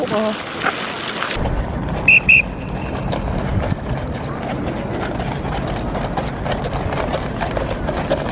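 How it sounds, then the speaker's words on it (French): Hooves of a mounted guard's horse clip-clop steadily on London pavement amid street bustle and passing traffic, with a couple of brief high beeps early on. "Un cheval."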